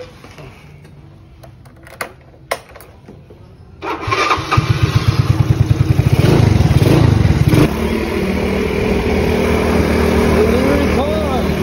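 A loaded delivery motorcycle starts up after a few clunks and handling noises, its small engine settling into a loud steady idle with a brief revving pulse, the sound continuing close and constant to the end.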